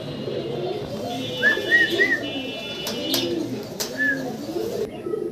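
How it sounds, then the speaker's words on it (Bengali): Sirazi pigeons coo in soft, low murmuring phrases, with a few short chirps and whistles, close by in a loft, and a faint voice in the background. "এটা আপনার সিরাজি কবুতর।"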